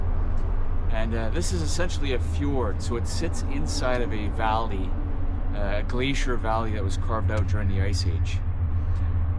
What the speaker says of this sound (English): Sorry about the noise, there's traffic going over the bridge.